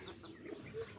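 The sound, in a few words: hens clucking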